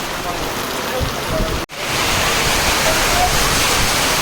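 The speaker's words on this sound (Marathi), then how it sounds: "पाऊस लई जोरात आला" Heavy rain pours in a steady, dense hiss, with a brief dropout near the middle before the downpour resumes just as loud.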